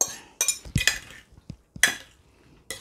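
Utensil stirring and clinking against a dish of roasted quince and cabbage, several scraping strokes and knocks in irregular bursts with short pauses, close and moderately loud.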